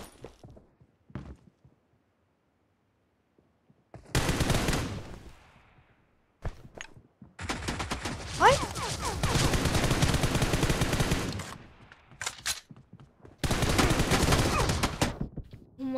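Shotgun blasts in a video game firefight, loud bursts of gunfire arriving in several separate clusters with short pauses between them.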